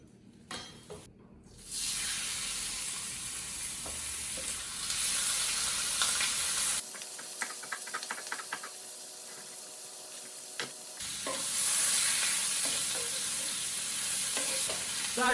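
Butter melting into olive oil in a hot frying pan, a loud, close hissing sizzle that starts abruptly, dips into a quieter, crackly stretch midway, then swells back to full intensity, with no talking.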